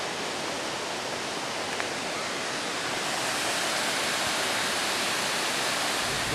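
Angel Falls, a waterfall in Maine, roars as a steady, dense wash of falling water at close range, continuous and loud throughout with no voices.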